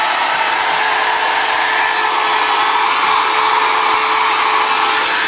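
A hair dryer blows loud and close without a break as hair is dried upward, a steady rushing whir with no talking.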